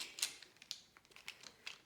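Soft, irregular clicks and clatters of Derwent Inktense colored pencils knocking together as someone sifts through a pile, quiet and close.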